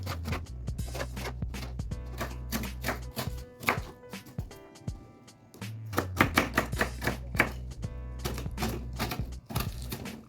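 A knife chops onions and tomatoes into small pieces on a board, giving fast, quiet, rhythmic taps with brief pauses and no talking.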